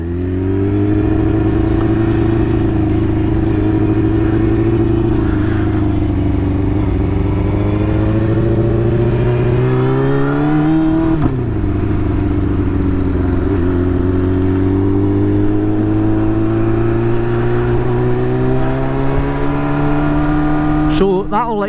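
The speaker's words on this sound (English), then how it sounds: "So this here on the Wheelex Moto 125, this is Davey" A Black Isle Wheelex Moto 125 motorcycle engine idles and revs loudly up close, pitch rising and falling in smooth sweeps for the whole stretch.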